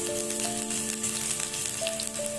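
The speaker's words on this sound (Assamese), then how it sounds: "পিঁয়াজখিনি দি মই ভালদৰে লৰাই দিম।" Onions sizzling in hot oil over lowered gas heat while being stirred for baingan bharta, a dense continuous frying hiss close up with faint tonal hums underneath.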